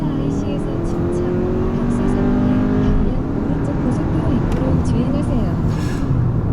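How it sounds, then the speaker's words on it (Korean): A Hyundai Sonata The Edge, 1.6T or 2.5T, pulls hard at full throttle with active sound switched off, a steady, slightly rough engine drone rising from inside the cabin, continuous and fairly loud throughout. "가속 소음 한번 들어보시죠."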